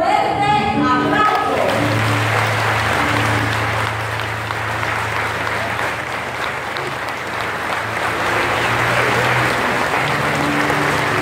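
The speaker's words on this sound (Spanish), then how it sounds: "todos los fieles les damos un fuerte aplauso" A church congregation in Villa González claps loudly and continuously for a visiting papal nuncio, a dense sustained applause that fills the room after a brief spoken introduction.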